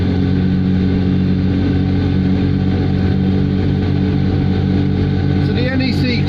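A car engine labours slowly up a hill with a steady, loud drone, and voices talk over it.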